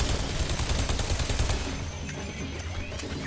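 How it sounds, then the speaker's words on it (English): A shotgun fires in the first-person shooter video game Bodycount, in dense, loud overlapping blasts with crashing impacts that run through the whole moment. "I have to try out the shotgun."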